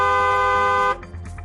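A vehicle horn blares in one sustained, loud, steady honk for almost a second, then cuts off into faint traffic noise.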